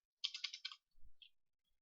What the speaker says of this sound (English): I'm typing as well, just in case you can't hear me.